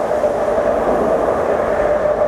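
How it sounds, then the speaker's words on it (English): A train rolls past nearby, a loud, steady rumble with a broad roar that holds unbroken from start to finish, with no voices over it. "So you gotta deal with the train."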